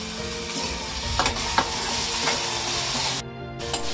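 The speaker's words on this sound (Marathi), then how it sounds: "कारण कांद्याबरोबर तो बोंबील छान खरपूस फ्राय होतो" Onion and dried Bombay duck fish frying together in a pan for a spicy chutney, with a steady, dense sizzle and occasional scraping stirs from a spatula, fairly close and with no talk.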